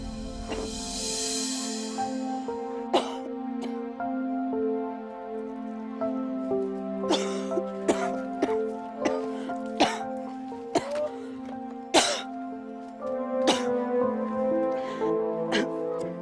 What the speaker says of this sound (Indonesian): Bu, batuk ibu kok kayak gitu sih?